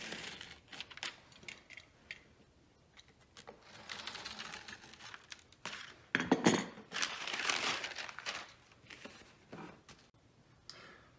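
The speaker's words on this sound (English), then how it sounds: "you'll want to use a nice sharp razor knife and keep your fingers out of the way" A sharp razor knife slices along a template through paper for Brown Bess musket cartridges, giving scratchy, crinkly strokes in bursts, close up and fairly quiet, with no one speaking.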